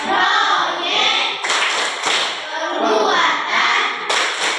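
A group of teachers at a school workshop in Indonesia perform a patterned clap chant, bursts of sharp hand claps in a rhythmic sequence mixed with voices, loud and close.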